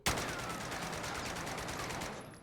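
Sustained automatic fire from a new gun in Warzone, a dense, steady rattle of rapid shots opening with a sharp onset and running for over two seconds before tapering, close and loud with no voices over it.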